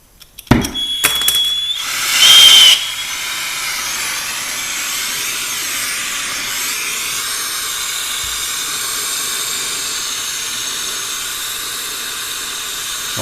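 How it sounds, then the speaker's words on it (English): A brazing torch burns on a refrigeration line joint of a Sub-Zero 22IM ice machine, giving a steady, close roaring hiss of flame that carries on unbroken after a few clicks and a brief burst of gas at ignition. "Always keep an eye on the tip of the torch and the flame."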